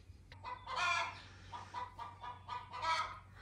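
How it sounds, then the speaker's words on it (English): A chicken clucks in a rapid, repeated series of squawks, the kind made while laying an egg, sounding fairly close over a low steady hum with no talk. "Okay, we've got a chicken laying an egg in the background by the sound of it."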